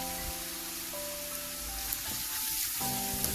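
Chicken masala sautés in a pan with a steady, soft sizzling hiss, close and fairly quiet, with faint tonal hum in the background and a couple of small clicks.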